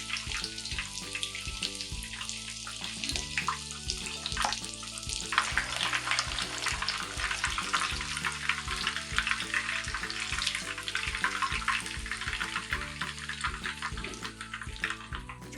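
Breaded shrimp fry three or four at a time in hot oil until golden brown, giving a steady, loud, close sizzle and bubbling throughout with no one speaking.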